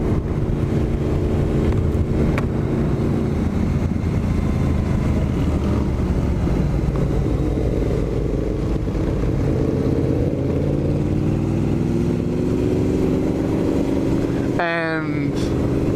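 A Suzuki GSX-R motorcycle accelerates on a country ride, engine pitch climbing steadily through the gear under heavy wind rush at the microphone, ending with a brief burst of clatter.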